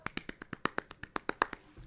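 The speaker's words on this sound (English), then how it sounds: "I'm gonna do a round of applause" Round of applause from a single pair of hands, about a dozen crisp, evenly spaced claps close up, ending abruptly.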